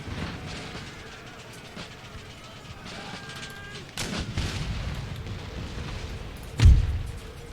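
Cannon fire in the video game Empire: Total War, with a loud low boom near the end over a rumbling battlefield backdrop, plus a softer thud midway.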